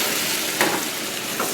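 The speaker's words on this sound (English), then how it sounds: "Throw our ratatouille in." Steady, crackling sizzle of ratatouille frying in melted butter in a pan, continuous throughout with a couple of brief louder clinks or stirs.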